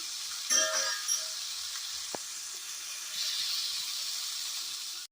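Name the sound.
food sizzling as it fries in a pan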